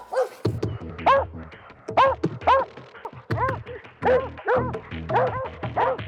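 Squirrel-hunting dogs bark and bay at a treed squirrel, close and loud, with repeated bursts of yelping barks in an uneven rhythm and short pauses between volleys.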